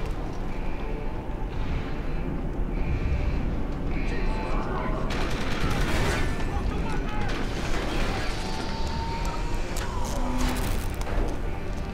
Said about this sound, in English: I don't know who did the shooting